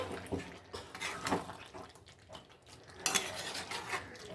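Badami chicken being stirred in a handi pot, quiet intermittent scrapes and metallic clinks of a spoon against the pot, irregular and close.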